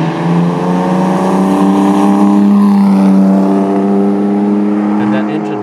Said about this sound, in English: The exhaust note is one that makes you want to just rev it and rev it and rev